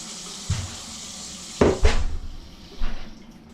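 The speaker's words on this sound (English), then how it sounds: "I could use the fridge filtered water, but I prefer tap water." Water runs from a kitchen tap into a sink amid clinks of dishes and cutlery, with a steady hiss broken by a few louder splashes and knocks, close by and with no talking.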